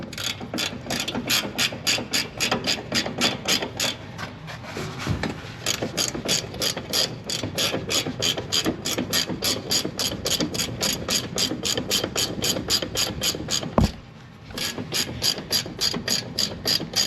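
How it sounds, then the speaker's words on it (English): A ratcheting open-end wrench loosens bolts on a planter in long runs of fast, even metallic clicks, close up, with one short pause and a sharp knock before the clicking resumes. "we're just gonna put the ratcheting open-end wrench on them and drop those off there"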